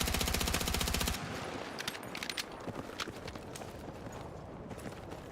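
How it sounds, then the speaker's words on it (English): Machine gun fire in the video game Battlefield 6, a loud rapid automatic burst at the start, then scattered distant shots and clattering battle noise, with no voices. "Hostile machine gun!"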